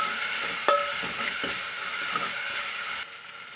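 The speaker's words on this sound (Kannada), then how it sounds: "ಈ ಟೈಮ್ನಲ್ಲಿ ನಾನು ಶುಂಠಿ ಹಾಕ್ಕೊಂಡು ಒಂಚೂರು ಹಸಿ ವಾಸನೆ ಹೋಗೋ ತನಕ ಫ್ರೈ ಮಾಡ್ಕೋತಾ ಇದ್ದೀನಿ" Ginger frying in a pan alongside golden-brown onions gives a steady, close sizzle with a couple of sharp clinks from a stirring utensil early on, and no voices.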